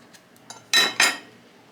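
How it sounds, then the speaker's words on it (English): A knife cuts into a homemade hamburger bun, giving two firm scraping strokes close by after a few faint taps, then quiet. "Just gonna slice right through it."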